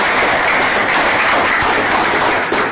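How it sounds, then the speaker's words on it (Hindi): Applause at a mobile phone EMMC repair training institute, a dense continuous patter of many hands clapping together at close range, with no speech over it. "एक बार ताली बजा दो इन्होंने"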